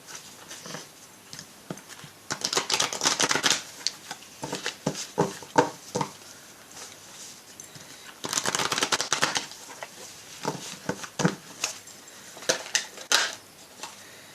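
An oracle deck is shuffled close by in a quiet room, giving soft, irregular papery riffles and taps in two busier bursts separated by lighter flicks.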